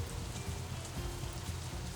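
Steady rain falling outdoors in the visual novel game Katawa Shoujo, a continuous dense hiss of drops on surfaces with a low rumbling bed, even and unbroken throughout with no voices.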